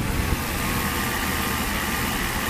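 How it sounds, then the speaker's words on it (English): A 1995 Mercedes S600 being tested for a throttle actuator fault idles steadily up close, giving a smooth, unbroken engine hum with no revving. "engine started up"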